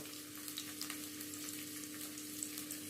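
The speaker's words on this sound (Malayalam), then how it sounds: "ഇഞ്ചി നല്ലെണ്ണയിൽ ചേർത്തു." Chopped ginger fries in sesame oil in a pan for mint leaf pickle, giving a soft, continuous sizzle with scattered crackles and pops. The sound is fairly quiet and steady, with no voices.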